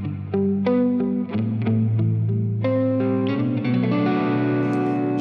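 Electric guitar played through a Universal Audio UAFX reverb pedal, clean plucked notes and chords blooming into a long, shimmering wash with modulation and echo, alone and up close.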